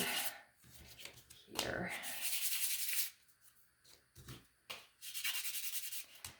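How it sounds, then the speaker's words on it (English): Small painted wooden toy truck parts are sanded by hand in close, rasping bursts of uneven length with short pauses between them, and a voice speaks briefly in one gap. "So I'm just going to give them a little sand"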